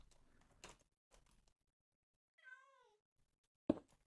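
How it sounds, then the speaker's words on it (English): Cats meow in modded Minecraft, with a few short, close meows spaced out across a few seconds, plus some brief clicks and a sharp knock near the end. "And again with the cats."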